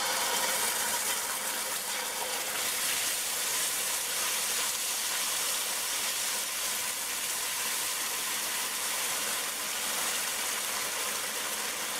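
Ketchup goes into dark amber caramelized sugar in a pan for Trinidadian shrimp pelau, giving a steady, loud, broadband hiss that sizzles evenly throughout with no talking.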